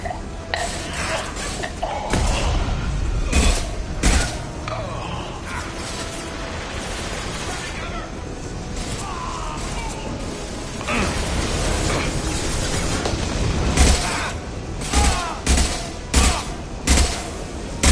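Combat in Mass Effect 2 with clusters of sharp shots and clanking, mechanical weapon sounds, heavier bursts near the start and a string of spaced loud shots toward the end, amid game noise.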